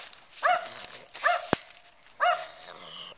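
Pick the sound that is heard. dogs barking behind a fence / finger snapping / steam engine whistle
dogs barking behind a fence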